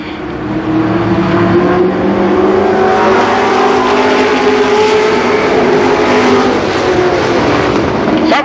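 Stock cars race at Columbus Motor Speedway in an October 1990 main event, with loud sustained engine roar throughout as several cars drone past together, steady and continuous without pause.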